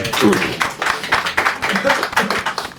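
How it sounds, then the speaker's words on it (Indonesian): Studio audience at a comedy talk show applauding, a dense, loud, steady patter of many hands clapping close by for a few seconds. "Tepuk tangan."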